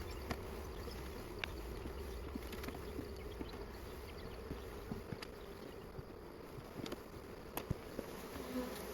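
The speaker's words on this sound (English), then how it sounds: "You know the bees are getting mad when it starts smelling like bananas." Honey bees swarm around an opened hive, a steady close buzzing drone filling the air with scattered sharp clicks and knocks from hive work.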